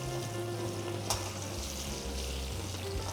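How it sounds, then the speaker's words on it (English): Seasoned salmon sizzles in olive oil and lemon juice in a pan, a steady close frying hiss with a brief sharp spatter partway through. "We're gonna take the top down right into the olive oil."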